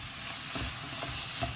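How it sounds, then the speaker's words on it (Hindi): Onions frying with ginger garlic paste in a pan, a steady broadband sizzle with soft stirring scrapes recurring every half second or so, close and fairly loud, no voices. "प्याज का कलर चेंज होने तक हमें इसे फ्राई करना है"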